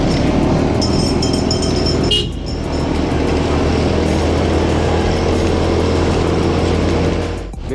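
A Honda Beat Fi motorcycle rides along a road with a steady, loud engine drone and rushing road and wind noise throughout, briefly dipping midway before continuing.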